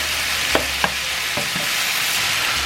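Pork belly frying in a pan on a stovetop at medium-high heat, a steady sizzling hiss with a few sharp crackles and pops early on, close and alone with no voices.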